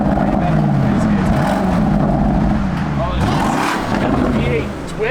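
A Porsche Cayenne E-Hybrid's twin-turbo V8 accelerates hard, its loud, close engine note rising and sweeping in pitch from start to finish, with voices underneath.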